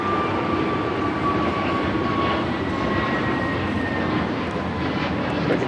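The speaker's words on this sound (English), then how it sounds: "This is American Airlines 2667 taking off to Los Cabos on the A321neo." An American Airlines Airbus A321neo bound for Los Cabos takes off at LAX, its engines giving a steady, loud roar with a thin high whine, heard without talk.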